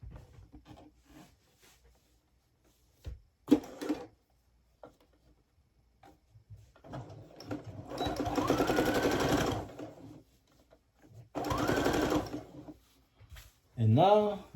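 Sewing machine stitching plaid fabric for men's pants, heard in two sustained whirring runs with a shorter burst at the end, separated by quiet handling clicks and rustles, with occasional talk between runs.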